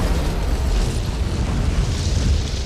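A blast from an RPG-like weapon in the sci-fi film Cosmic Sin: a loud, sustained, rumbling explosion roar with dense crackling debris that fills the whole stretch without letup.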